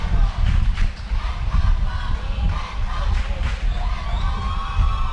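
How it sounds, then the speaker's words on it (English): A crowd at a high school state championship semifinal baseball game cheering and shouting, a loud, continuous roar of voices with whoops rising and falling throughout. "Where the crowd is very much into this game."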